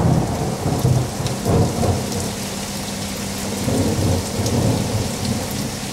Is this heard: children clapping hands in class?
no